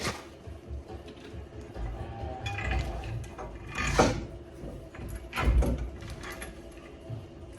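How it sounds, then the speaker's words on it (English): A lower ball joint bolt being tightened on a Silverado lift spindle, with close mechanical ratcheting and metallic clicks in a few bursts over low workshop background noise, no voices. "I got the lower one pretty nice and cinched down"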